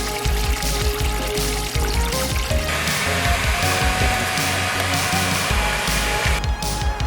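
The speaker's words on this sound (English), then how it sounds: "After we drain the 55-gallon barrel, we will pump the waste into a storage tank" A pump pushes aquaponics fish waste water from a drained 55-gallon barrel into a storage tank, making a loud, continuous rushing pour with a steady mechanical drone throughout.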